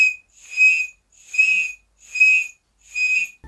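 A pen cap blown or whistled to imitate a cricket gives four evenly spaced, shrill chirping pulses, each about half a second long with short gaps between, close and fairly loud, with no talk.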